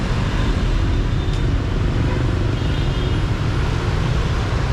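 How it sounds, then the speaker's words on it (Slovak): Dense street traffic in Hanoi, with many motorbikes and cars filling the air in a steady, loud roar of engines close by and all around, with no voices. "Premávka asi takáto."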